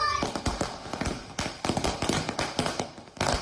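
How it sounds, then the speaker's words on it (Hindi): Diwali firecrackers burst in quick irregular succession, a dense run of sharp cracks and pops close by, each snapping out above a noisy background. "खुद पटाखा जला रहे हैं, बल्कि आसपास खड़े बच्चों को भी पटाखा जलाने के लिए दे रहे हैं।"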